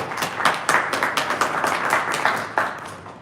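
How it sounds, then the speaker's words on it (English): Audience applause at a public health policy briefing, a steady wash of many hands clapping close by, with dense overlapping claps that swell and fade over a few seconds. "A round of applause for our sponsors."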